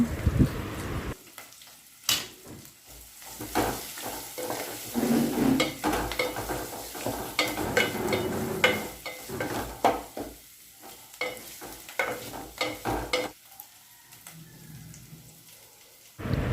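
Ginger garlic paste sizzles and crackles in a hot pan while being stirred, with uneven bursts of frying hiss and scraping spoon strokes close up.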